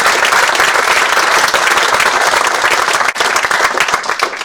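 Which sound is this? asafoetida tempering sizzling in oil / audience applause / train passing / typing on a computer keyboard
audience applause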